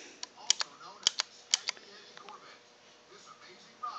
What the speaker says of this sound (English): And this selector switch, that clicking noise you heard,